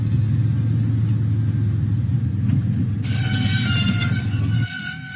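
Diesel, a diesel train engine in a Thomas & Friends children's game, rumbles steadily along with a low continuous engine drone, joined midway by a brighter whirring tone before the rumble drops off near the end.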